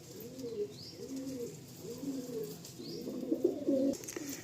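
Golden-eyed Tikki pigeons coo in soft, repeated low phrases close by, about five rising-and-falling calls in a row with faint chirps over a quiet background.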